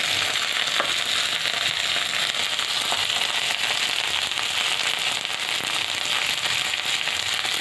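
Okra sizzles and crackles steadily in a hot pan for a mixed vegetable dish, a loud, continuous close-up frying hiss with occasional pops and no voices.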